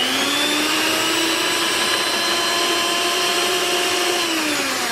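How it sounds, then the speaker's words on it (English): Yeast brioche dough churns in an electric stand mixer, a steady, loud motor whine with a faint rising pitch, running alone and unbroken throughout. "We're just going to mix this up until it forms a nice dough"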